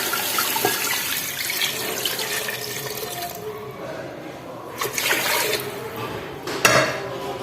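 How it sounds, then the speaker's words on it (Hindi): Water pours from a tap into a cooking pot for aloo gosht in a home kitchen, a loud steady splashing stream with a few metal clanks of the pot near the end. "पानी डालते हैं।"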